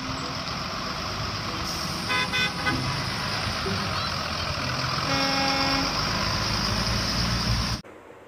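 A school bus horn toots in short bursts over steady traffic and engine noise, with tonal honks clustering around two and five seconds before the sound cuts off abruptly near the end.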